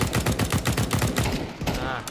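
A rapid automatic burst in Counter-Strike 2 fires about a dozen evenly spaced, loud shots, then a couple of scattered trailing shots.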